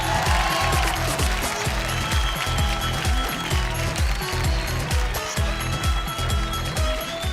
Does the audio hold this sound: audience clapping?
yes